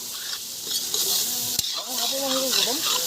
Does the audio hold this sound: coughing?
no